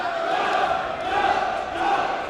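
A crowd cheers and chants in unison in a school gym during a varsity high school volleyball match, a loud, sustained roar of many voices with a rhythmic rising and falling swell.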